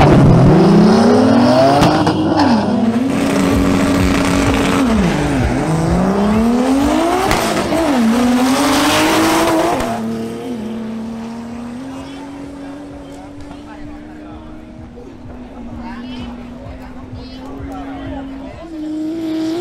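A BMW 325i drag racing car accelerates hard down the strip, its loud engine note climbing through several rising sweeps with gear changes, then settling into a steadier, more distant drone.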